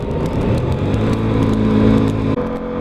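An Aprilia RS 660 motorcycle engine holding a loud, close, steady rev that builds slightly before a brief dip near the end, heard from on the bike with no voices.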